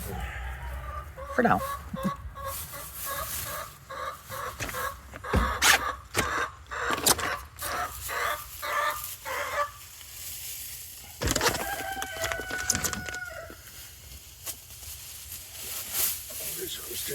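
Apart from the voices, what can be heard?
rooster crowing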